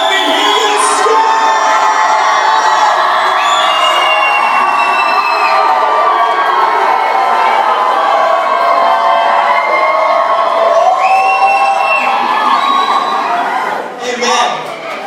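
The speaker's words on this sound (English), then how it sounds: "if you believe in that Jesus, let me hear you scream" A large crowd at a Christian worship event screams and cheers loudly and without a break for about fourteen seconds, with whoops and shouts rising over the din. It fades a little at the end.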